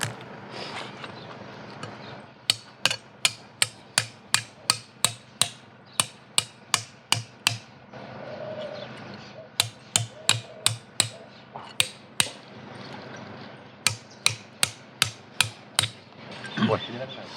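Repeated sharp hammer strikes on a knife driven through pork ribs during a pig butchering, coming in steady rhythmic bursts of a dozen or so blows with short pauses, loud and close, with faint background activity between.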